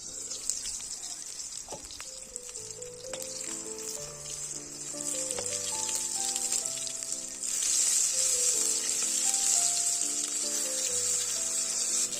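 Eggplant slices frying in hot oil give a steady, loud, close sizzle that grows a little louder partway through, with soft clinks and stirring scrapes underneath and no talking.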